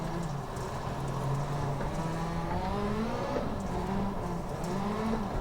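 A midget race car on a dirt track in the iRacing video game, its engine tone rising and falling continuously as it pulls through a slick corner, heard alone.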